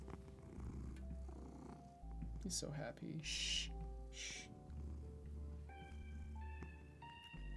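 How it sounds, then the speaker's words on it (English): A pet cat purrs steadily and close by, a low continuous rumble running under soft spoken words and gentle shushing from a nearby person. "You gotta hear his purr."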